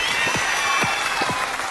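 Audience applause fills a TV music game-show studio as a singing group is welcomed on stage: a dense, steady wash of clapping that holds at full strength throughout the short stretch.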